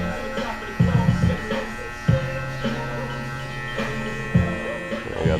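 Electric hair clippers with a 1.5 guard cutting a fade, buzzing steadily up close while someone talks over the motor.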